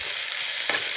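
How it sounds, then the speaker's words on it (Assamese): Spices frying in hot oil in a pan, after ginger, garlic and whole spices go in for tempering: a steady, close sizzle running throughout, with a brief louder crackle near the end and no voices. "এতিয়া অলপ ভাজি থাকিব লাগিব এইখিনি ভাজা নোহোৱালৈকে"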